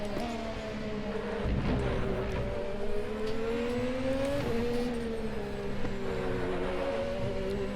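Formula RaceRoom US single-seater race car in RaceRoom Racing Experience at Mid Ohio, its engine a loud, continuous high whine that rises and dips in pitch through throttle changes and shifts, with no voices.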